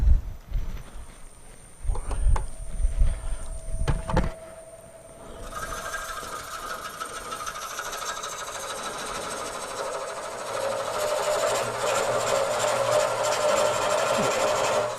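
A small piece spinning on a wood lathe, with a steady broadband hiss of cutting and shavings building after a few seconds of quieter knocks and setup sounds, continuing unbroken to the end.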